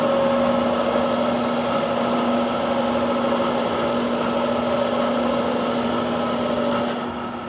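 A lathe tool chatters on a finishing pass over a gear cutter arbor, a steady humming whine with a sustained ringing tone held throughout and easing slightly near the end.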